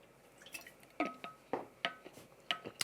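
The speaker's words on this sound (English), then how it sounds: "I'm add just a dash of water, unscientifically." Water dripping into a glass of Saltire 15-year Aultmore Scotch whisky, a series of distinct, close, bright drips and small splashes with quiet pauses between them.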